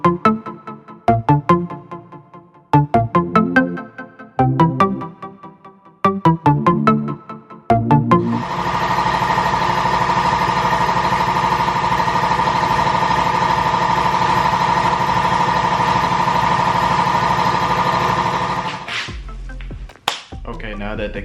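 An air compressor runs steadily in a garage during prep work on a Mustang for paint, a loud continuous drone for about ten seconds that cuts off abruptly, preceded by sharp slapping knocks.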